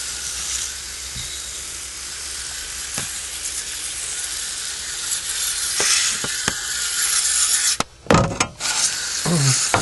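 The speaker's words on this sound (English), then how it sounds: "this is supposed to be a good foaming type of coil cleaner" Nu-Calgon no-rinse foaming coil cleaner fizzes and hisses steadily on an HVAC coil, a close continuous crackling sizzle with a few sharp spray bursts near the end.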